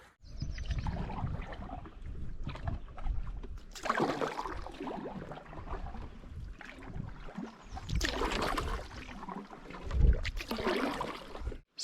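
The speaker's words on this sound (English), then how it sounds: "So paddled all the way across Winchell" A canoe paddled across a lake in the Boundary Waters wilderness, with soft repeated swishes and gurgles of water against the paddle and hull, quiet and close, in waves every few seconds, with no talk.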